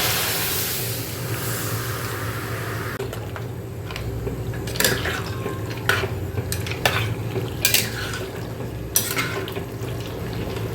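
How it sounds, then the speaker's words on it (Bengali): Food in a pan is stirred and mixed after water is added, first a steady sizzle and hiss, then scraping and clinking of a utensil against the pan at irregular moments, close and loud. "এবার এটাকে মিক্স করতে হবে আগে একটু জল দিয়ে দিই"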